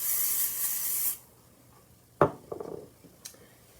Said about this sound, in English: I do need some pixie spray on the back of this one